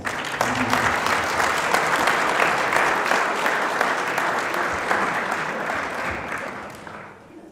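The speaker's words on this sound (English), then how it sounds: "Please give them a round of applause." A forum audience applauds Amarillo City Council candidates, dense steady clapping filling the room before tapering off at the end.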